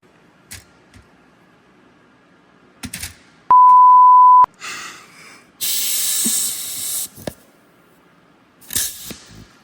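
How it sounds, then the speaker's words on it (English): A pneumatic rivet squeezer sets rivets on an RV-7 horizontal stabilizer rear spar, giving short bursts of loud air hiss separated by clicks and taps, with one steady electronic beep. "after taking some time to get the rivet squeezer adjusted, we got our first few rivets set here"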